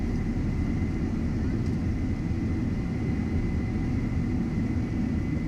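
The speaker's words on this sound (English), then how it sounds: "Wow, what a takeoff roll." Boeing 747 takeoff roll in Microsoft Flight Simulator 2020, a steady, loud jet engine roar with a constant whine and no breaks throughout.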